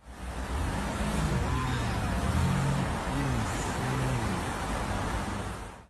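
Loud cars in nearby city traffic make a dense, steady roar of engines and tyre noise, close and continuous, with no voices.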